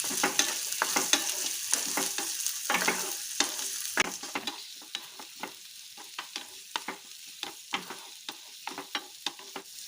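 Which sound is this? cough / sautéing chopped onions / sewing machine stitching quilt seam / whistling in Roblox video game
sautéing chopped onions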